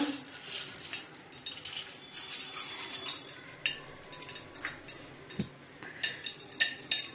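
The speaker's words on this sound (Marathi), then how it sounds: "तर डिंक थोडा थोडा चांगला आपण टाकून भाजून घेऊया" Edible gum (dink) roasts in melted ghee in a pan, with a spoon scraping and clinking against the metal in quick, irregular taps over a soft background sizzle.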